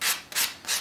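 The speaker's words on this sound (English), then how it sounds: "I'm using a sanding sponge." Three short scrubbing strokes of a fine-grit sanding sponge smoothing a caulk finishing tool, evenly spaced and close, with brief pauses between each rub.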